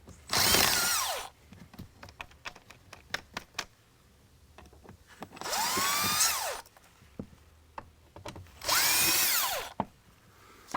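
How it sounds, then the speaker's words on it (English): Three loud bursts of a power drill whirring as it removes screws from an Infiniti G37 cabin air filter cover, each about a second long, separated by clicks and rattles of tool handling in between. "this one in the center is kind of hard to get to with the drill"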